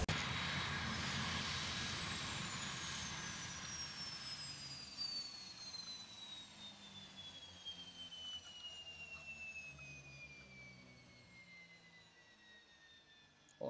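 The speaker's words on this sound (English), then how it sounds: "Alright, let's finally get these engines off." Jet engines spooling down after parking in a video game, a loud broad roar with falling whining tones that gradually fades over about fourteen seconds, no voices.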